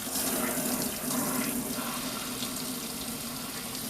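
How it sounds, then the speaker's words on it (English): Water from a salon rinse hose pours sideways through perm rods set in hair during a double-process curl treatment, a steady broad splashing hiss that runs unbroken and fairly close. "I'm letting that water go sideways through those rods"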